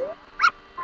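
A brief, high-pitched whimper from puppies in the video game The Legend of Zelda: Majora's Mask, a short soft whine that rises and falls within a fraction of a second.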